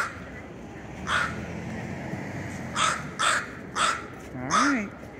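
A crow caws repeatedly at cruise ship passengers in Skagway, Alaska, giving four or five loud, harsh calls in an uneven rhythm, with people talking in the background.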